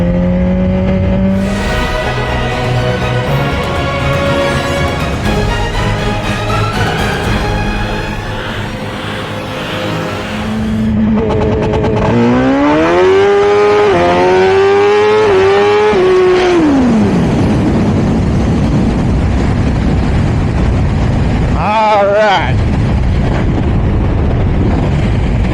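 Suzuki GSX-R 1000 sport motorcycle on a drag launch, engine held buzzing on a two-step limiter, then a loud climbing rev through the gears that falls away, followed by a brief blip near the end.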